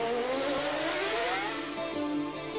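Formula 1 race car engine running at high revs, a loud continuous whine with rising and falling pitch as it accelerates, close and alone with no voices.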